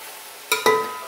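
Chicken frying in a pan with onion, garlic and ginger sizzles steadily while a spoon stirs it, giving two quick scraping strokes over the continuous hiss, close and fairly loud.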